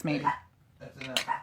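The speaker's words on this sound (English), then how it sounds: "Excuse my little dog," A tiny two-pound dog named Louie barks a few quick, high yaps close by, with a person speaking over and between the barks.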